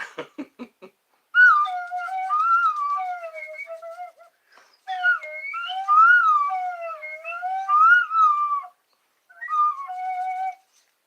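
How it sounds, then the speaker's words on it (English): A slide whistle glides up and down in wavering pitches, played in several separate phrases with short pauses, loud and close, no talking. "The cheaper slide whistle."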